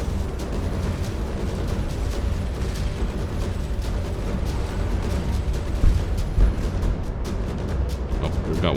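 Spaceship guns fire in the space game Starcom Nexus as a steady stream of rapid clicking shots over a dense rumbling background, with a few louder bursts near the middle.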